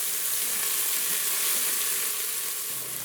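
Minced garlic and finely grated ginger sauté in hot oil, a continuous bright hiss and sizzle held close and steady from start to finish, with no talking.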